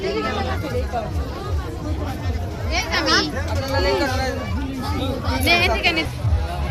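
Crowd babble at an evening fair on the Jamuna riverbank, many overlapping voices chattering close by in a dense, continuous hubbub.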